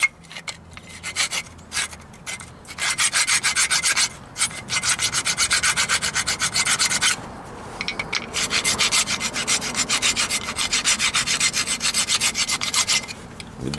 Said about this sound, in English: clean up this surface right in here using a little blue file